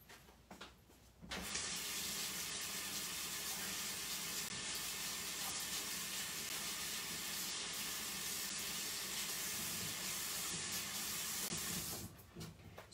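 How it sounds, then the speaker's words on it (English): Running water rinses a tile board coated in chalk finish paint, a steady broad rushing hiss from a faucet that starts abruptly, holds evenly close by for about ten seconds, then tapers off. "I'm going to rinse this one more time."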